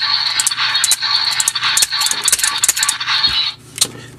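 Ressha Sentai ToQger Henshin Brace toy from 2014 powering on, giving a burst of bright electronic chimes and jingling effects that stop after a few seconds, close and alone.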